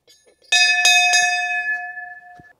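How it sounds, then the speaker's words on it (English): Bell rung on a golf green, three quick bright metallic strikes close together followed by a long ringing decay, near and loud. "Let's ring the bell."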